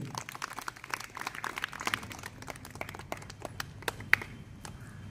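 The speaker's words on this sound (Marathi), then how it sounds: "प्रथमतः त्यांचं सर्वांनी आपण टाळ्या वाजवून स्वागत करायचे" An audience clapping to welcome a journalist at a children's camp gathering: a dense, continuous patter of many hands applauding together, steady for several seconds and heard from nearby.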